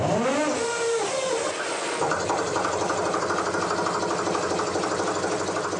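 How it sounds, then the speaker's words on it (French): An old canal boat engine on the Canal du Midi, fitted with a home-made electric starter, whirs through its start-up and then settles into a loud, steady mechanical running rhythm close by. "Je vais aller mettre en marche le vieux moteur."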